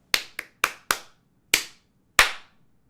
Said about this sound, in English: We do a golf clap.